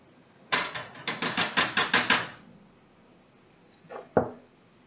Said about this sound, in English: I'm going to stir my rice into that.